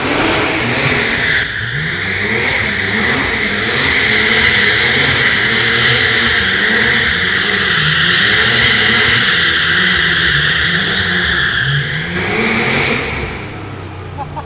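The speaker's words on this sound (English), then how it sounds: "We just did donuts with RWB Archangel" An RWB Porsche doing donuts at an auto complex, its engine revving hard and holding a loud sustained howl with fluctuating pitch and tire noise before easing off near the end.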